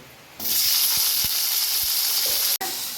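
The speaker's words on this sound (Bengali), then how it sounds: "এখন আমি তেল গরম করেছি, এই তেলে আমি হালকা করে এটা ভেজে নেব।" Halved ivy gourd (kundri) hits hot oil and sets off a loud, steady sizzle that keeps going for a few seconds, with faint low bubbling popping underneath, and a brief break near the end.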